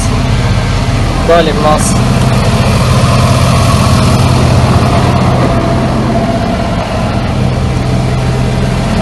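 A Deutz tractor engine runs at a steady idle on a farm, with a constant low rumble throughout while someone talks over it nearby.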